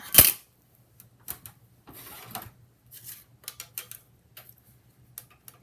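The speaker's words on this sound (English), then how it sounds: "I'm just going to run this through the machine to show you the results" A paper card fed through a die-cutting embossing machine, giving a series of sparse mechanical clicks and ratcheting ticks with brief rolling rasps between, close and quiet.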